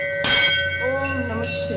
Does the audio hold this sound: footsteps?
no